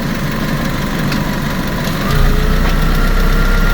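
A Fiat 500 engine idles with a steady, loud rumble while the clutch is eased out in first gear, and the note deepens and grows slightly heavier partway through as the drive takes up; no voices.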